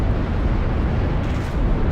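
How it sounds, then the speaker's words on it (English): A Nexus structure blows up in the real-time strategy game Ashes of the Singularity, a loud, dense roaring blast that fills the whole moment without letup and with no voices over it. "Enemy Blue and nexus exploding."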